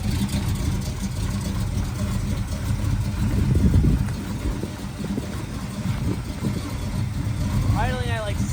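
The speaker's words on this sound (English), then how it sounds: "Idling at like 600 RPM" A Camaro's V8 engine idles cold at about 600 RPM with a low, steady rumble, slightly rising and falling, while people talk over it.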